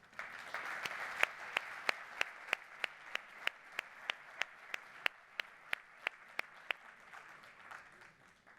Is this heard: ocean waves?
no